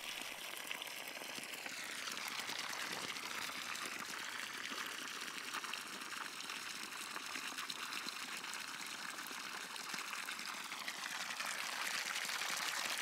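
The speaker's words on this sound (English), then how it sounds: "And check out this water pressure." Water gushing steadily from the hose outlet of a rain barrel made from a garbage can, a continuous strong rushing flow, close and loud without pause.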